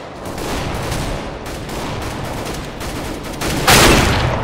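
Gunfire in Counter-Strike: rapid, sustained bursts of automatic shots fill the clip at steady loudness, with a louder burst near the end and no speech.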